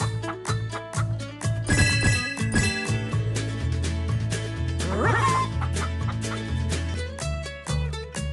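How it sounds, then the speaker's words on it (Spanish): Chickens in the PAW Patrol Rescue World video game cluck over a steady, bouncy game music loop with tinkling chimes, the clucks rising in a busy burst early on and again midway, fairly close and clear. "Encuentra a todas las gallinas y devuélvelas al gallinero."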